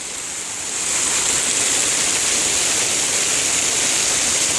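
Heavy winter rain pours down outside an RV, a dense, even roar of hiss that swells in within the first second and then holds steady and loud with no voices.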